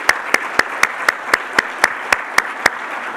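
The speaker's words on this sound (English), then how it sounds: "So Phil, I think you should stand and just get an applause now." Slow, evenly spaced single claps, about a dozen in a row, ring out sharply over a low background murmur as an engineering meeting audience applauds Professor Phil Klein.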